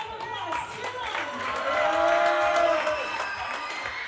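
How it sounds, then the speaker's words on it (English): A crowd at a professional squash league match applauds and cheers for the Greenwich Panthers team, a swelling mix of clapping and raised voices that peaks midway and stays lively. "Team, Greenwich Panthers, give us some love. Big applause"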